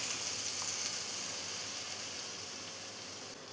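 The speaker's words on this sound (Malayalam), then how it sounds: "ഇതിലോട്ട് ഇനി നമ്മൾ കുക്ക് ചെയ്ത് വെച്ച ഗ്രീൻ പീസും കൂടെ ചേർത്ത് കൊടുക്കാം" Cooked green peas tipped into a pan of hot gravy raise a steady, close sizzle and hiss that fades slightly toward the end, with no voices.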